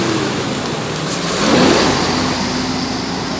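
A diesel bus pulling into a bus terminal in Pekanbaru, its engine droning steadily nearby and swelling briefly in a rev midway before settling back, with no talk over it.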